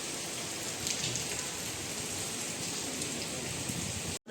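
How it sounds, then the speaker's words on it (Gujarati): Steady heavy monsoon rain pours down in Rajkot, a dense, even hiss that holds the same level throughout and stops abruptly at the very end, with no voices. "આટલો વરસાદ થયો અમારે અહીંયા રાજકોટમાં"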